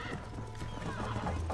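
Rhythmic hoofbeats of a galloping horse in Red Dead Redemption, steady and close, with a neigh layered over the clopping.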